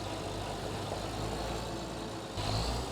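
Tractor engine in a farming video game with fertilizer equipment attached, a low, steady idling hum at modest volume that swells slightly near the end.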